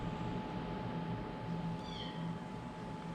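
A cat lets out a short, faint meow in a workshop where a John Deere 740 SL loader is under repair, over a steady electrical hum and low background noise.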